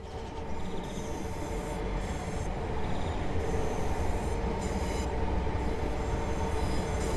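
A seven-car British Rail Class 807 Evero train runs along the West Coast Main Line through the Trent Valley, a steady, loud rumble of wheels on rails with faint high squeals throughout and no talk.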